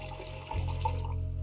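Pilsner beer poured in a tavern in the game Truberbrook, a steady liquid gush starting partway through and running on, moderately loud and close, with no talk.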